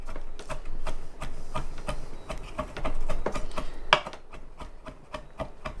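A knife dicing fresh herbs on a cutting board for fire cider, a quick irregular series of sharp tapping chops, close and distinct, with one louder knock near the middle.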